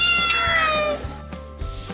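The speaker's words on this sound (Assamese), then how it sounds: "তেতিয়াৰ পৰাই হেপাই বুঢ়াৰ ঘৰলৈ ঘৰচীয়া মেকুৰী হ'ল" A house cat gives a long, high, drawn-out meow that slides downward, followed by a few soft thumps and shuffles nearby.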